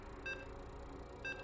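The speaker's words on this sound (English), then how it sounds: "You can hear the beeps" Two short, identical electronic beeps about a second apart sound faintly while a StarCraft match loads, with a quiet steady hum between them.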